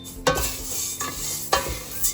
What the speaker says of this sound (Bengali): এখানে ডাল ভাজছি